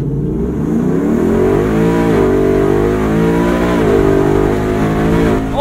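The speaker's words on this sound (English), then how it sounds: "With some incredible V8 noise!" Velocity Modern Classics Bronco with a V8 launches at full throttle in a 0-60 run, a loud, close engine roar climbing steadily through gear changes for several seconds with no talk.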